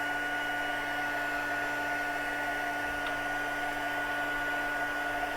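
A heat gun blows hot air steadily for heat embossing a handmade coaster, a constant, even whoosh with a faint hum throughout and nobody speaking.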